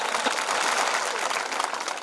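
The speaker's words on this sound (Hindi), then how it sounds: "एक बार जोरदार तालियां आपके लिए।" A crowd at a BJP political rally breaks into dense, continuous applause, many hands clapping loudly at once for the full stretch.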